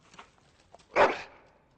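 Single short dog bark from the Dragon Age Origins video game, sharp and mid-distance after a few faint soft sounds, then quiet.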